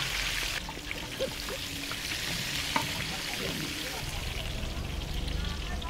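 Food sizzles steadily in a hot pan for a quick fry before being cooked down, a continuous close crackle with small pops and occasional stirring scrapes.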